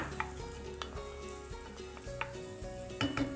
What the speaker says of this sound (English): So in go our shallots, and you want to hear that sizzle.